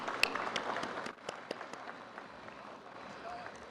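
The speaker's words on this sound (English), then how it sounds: "let's give it a round of applause," Audience at a live event claps briefly, a burst of individual hand claps at the start that thins out after about a second into scattered claps under a low room murmur.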